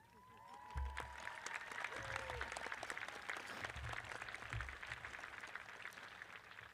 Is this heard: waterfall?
no